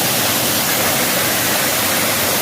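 Rushing water at Rampachodavaram waterfall near Maredumilli, heard as a loud, dense, unbroken roar that fills the whole clip, with no voices.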